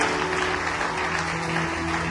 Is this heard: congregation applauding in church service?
yes